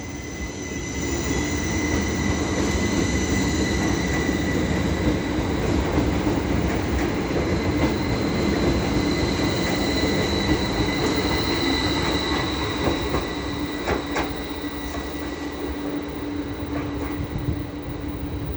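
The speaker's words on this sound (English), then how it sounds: "And now departing is the 1456 Northern Service to Skipton, as the 1457 Northern Service to Blackpool North is coming in." Northern trains departing and arriving at Leeds station on the East Coast Main Line, a loud continuous rumble of rolling stock with high wheel squeal and faint clicking over the rails.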